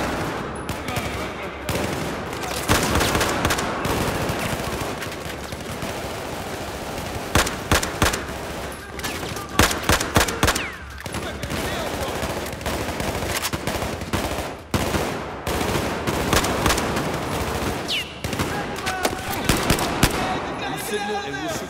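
Gunfire during a Battlefield 4 campaign firefight in an atrium, with loud repeated rifle and machine gun bursts and sharp single shots throughout, under game dialogue.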